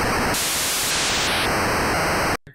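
Game Boy sound chip noise generator hissing as loud, steady white-noise static with high digital tones switching on and off, cutting out abruptly near the end before a brief faint blip.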